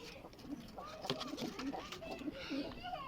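Pigeons cooing in a cage on a rooftop, soft repeated coos close by, mixed with low background noise and someone talking.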